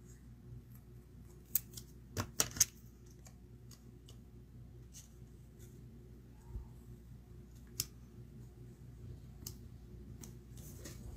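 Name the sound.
trimming card pieces with scissors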